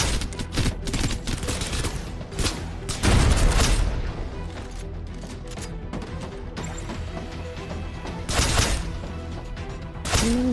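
Gunfire in the video game Snowbreak: Containment Zone: rapid volleys of shots with heavy impact thuds and crashes, loud and close, nearly continuous with sharper bursts along the way.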